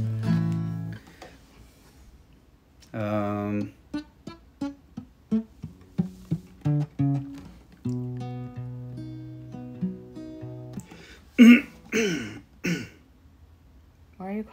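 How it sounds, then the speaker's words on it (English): Someone clears their throat and coughs harshly after straining their voice on high singing, several rough bursts near the end of a stretch of close conversation. "Why are you coughing like that?"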